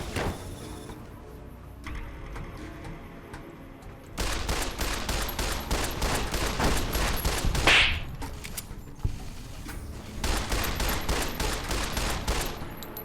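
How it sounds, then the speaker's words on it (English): Gunfire in a Fallout video game: a quiet stretch, then rapid bursts of sharp shots fired in quick rhythmic volleys, pausing briefly before another burst resumes. "I shot a gun out of his hand."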